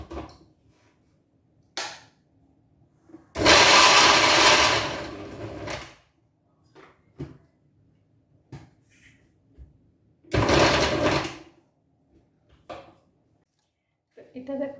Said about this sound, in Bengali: এটাকে মিক্সির মধ্যে দিয়ে এটাকে 5 সেকেন্ড ঘুরিয়ে নেব মিক্সিতে